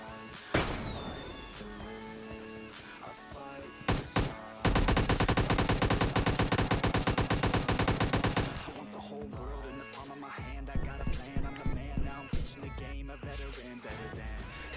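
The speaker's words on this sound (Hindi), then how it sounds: "अभी लास्ट लास्ट में गोली चलाना चालू किया" Rapid automatic gunfire from the PUBG Mobile Lite video game, a loud sustained burst of several seconds framed by scattered shots, impacts and game sounds.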